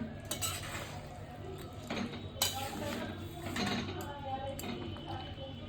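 A spoon stirs chicken curry in a pot on a gentle simmer, making soft scraping and clinking metal sounds at irregular moments over a low background hum.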